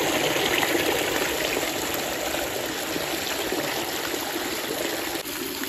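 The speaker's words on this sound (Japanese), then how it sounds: "それからオーバーフローした水が出てますけど" Overflow water pours steadily from a mountain spring water tank in the remote Hida mountains, a continuous nearby rushing and trickling that stays even and fairly loud throughout, with no voices.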